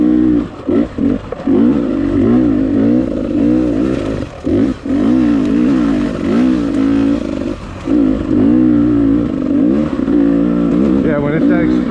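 A motorcycle rides through muddy ground after overnight rain, its engine loud and close with rising and falling revs and brief dips, under constant wind buffeting.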